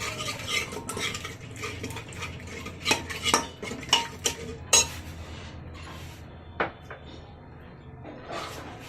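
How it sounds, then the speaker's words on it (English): A metal spoon stirs red chili powder into a mixture in a bowl, with irregular scraping and sharp clinks against the dish, some louder knocks clustered in the middle, close by. "And mix it well"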